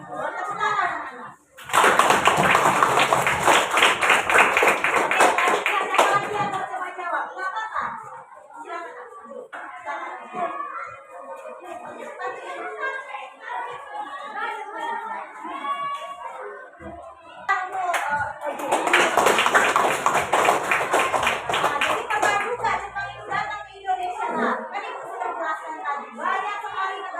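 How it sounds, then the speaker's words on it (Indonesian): Young primary school pupils clap their hands together in a classroom, two loud bursts of clapping separated by a teacher talking, with children's voices mixed in. "Tepuk tangan anak-anak."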